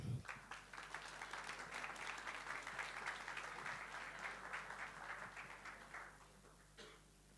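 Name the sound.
applause for conference speakers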